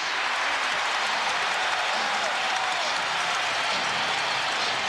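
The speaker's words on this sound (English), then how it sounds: "This crowd is phenomenal. They are so hungry." A dense arena crowd roars and applauds steadily at a Lakers vs Timberwolves 2003 NBA playoff basketball game, a loud, continuous wash of cheering and clapping with a commentator's voice faintly under it.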